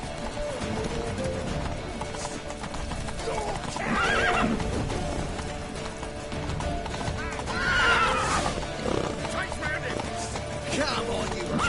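In the Witcher 3 video game a horse neighs and whinnies twice, loud and close, over continuous galloping hoofbeats, with voiced game dialogue mixed in.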